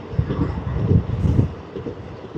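Short stretch of the Narasapur Express with ICF coaches on the move: a close, low rumbling from the running coaches with soft uneven knocks, alone without voices.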